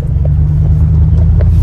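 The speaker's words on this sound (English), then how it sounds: "This is actually my first time driving this truck." A pickup truck engine rumbles steadily from inside the cab while driving, a low continuous drone with no voices.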